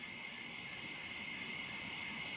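Crickets chirp at night beside a lake, a steady, faint high-pitched trill that drones on without a break, with no other sounds standing out.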